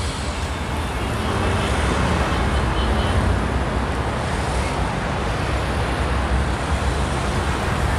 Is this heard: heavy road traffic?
yes